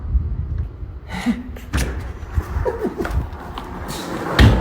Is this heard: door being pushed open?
yes